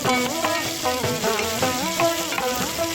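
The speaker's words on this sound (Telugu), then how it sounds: "తరువాత ఆలుగడ్డ ముక్కలు క్యారెట్ ముక్కలు నానబెట్టిన పచ్చి బఠానీ కరివేపాకు వేసి కొంచెం వేగనివ్వాలి" Chopped potato, carrot, soaked green peas and curry leaves sizzling in hot oil in a pan, a steady close frying crackle alongside clear tonal musical sounds, with no talking.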